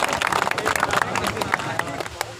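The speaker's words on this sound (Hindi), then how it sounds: "जोरदार तालियां।" Loud applause and clapping from a crowd at the ribbon-cutting inauguration of a new news-channel branch office, dense and continuous over the whole clip with a general hubbub of voices mixed in.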